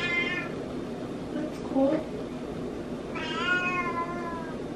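A domestic cat meows several times, drawn-out mews close by, while a person talks briefly in between.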